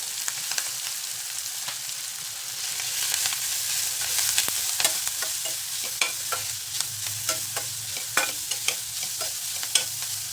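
Capsicum and carrot sauté in a pan with a soft, continuous sizzle, broken by repeated scraping stirs and light clinks of a spatula, close by and fairly quiet.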